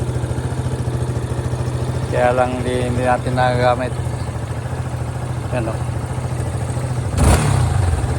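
A stock Yamaha Y250 motorcycle engine idles close by with a steady, even low throb, someone talks over it briefly, and a short clatter or rev bursts near the end.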